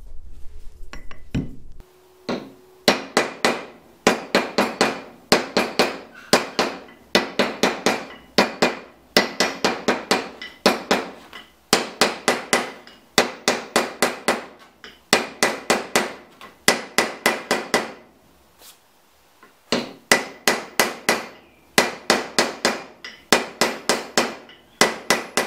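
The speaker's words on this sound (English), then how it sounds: "Let's try compressing the top of the handle by tapping it with a hammer." A hammer taps repeatedly on the top of a wooden chisel handle to compress it for setting a hoop, loud sharp strikes in quick bursts of several blows separated by short pauses.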